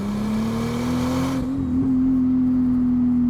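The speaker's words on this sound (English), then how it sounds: "Get a nice few crackles there when you come off throttle as well." Turbocharged VR6 in a VW Corrado with an open dump valve, its exhaust holding a loud, steady droning note that swells briefly, then drops off throttle with a rough burble and faint crackles.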